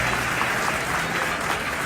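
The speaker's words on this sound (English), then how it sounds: "you guys should give yourself a round of applause for being here for your athletes" Crowd applause at a bodybuilding competition event, a dense sustained burst of clapping and cheering from the audience, loud and continuous throughout.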